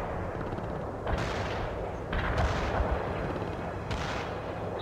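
A heavy artillery barrage in the game World in Conflict thunders as a dense roll of booming impacts, with several louder blasts landing at irregular intervals over a constant rumble.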